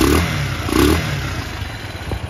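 A 2012 Cleveland Misfit 250cc retro cruiser motorcycle revs close by. Two short throttle blips rise over a steady idle with mechanical clatter, and no one talks.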